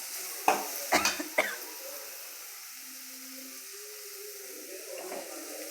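Onion, chili, ginger and garlic fry in a pan for chicken gravy, opening with three quick clattering stirs, then settling into a faint, low sizzle that continues quietly to the end.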